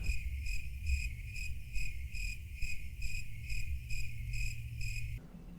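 Crickets chirp as a sound effect, a steady pulsing series of about a dozen evenly spaced shrill trills over a low background hum, then cutting off.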